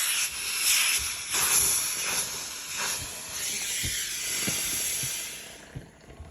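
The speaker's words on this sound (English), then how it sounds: "And I am gonna hit the steamer on my iron too" A clothes iron releases bursts of steam from its steamer, a sustained close hiss rising and fading in several pulses, with faint soft thumps beneath.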